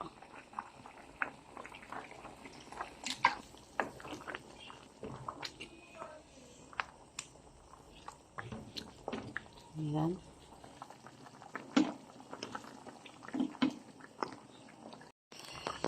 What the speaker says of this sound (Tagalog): Ayan, kumukulo pa rin siya.